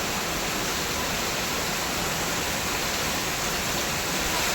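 Heavy rain hisses continuously in Ugamedi village, a thick unbroken downpour close by at steady loudness, about two hours into the rain.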